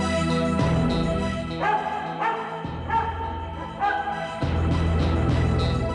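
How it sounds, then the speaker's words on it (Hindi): A dog barks repeatedly at moderate distance, blended with a sustained musical score in a devotional drama scene. "कुत्ता भौंक रहा है"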